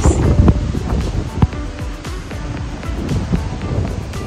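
Strong wind gusts buffet the microphone while high ocean waves crash and roar along Taiwan's northern coast in rain and fog, a loud, continuous wash with bursts of spray.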